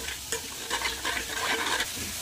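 Soybean chunks and potato frying in a pan: a brief burst of close, crackling sizzle with a few stirring scrapes, no voices.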